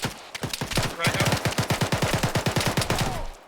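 Automatic rifle fire in the military shooter ArmA 3, sustained bursts of rapid, evenly spaced shots that run for several seconds, loud and close, with a brief pause near the start.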